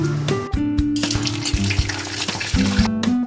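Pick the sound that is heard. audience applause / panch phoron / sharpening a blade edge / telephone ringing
panch phoron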